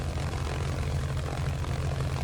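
An A6M5 Zero propeller engine warms up in the MSFS 2024 flight simulator, a loud, steady, low droning roar with a fast rhythmic throb and no talking.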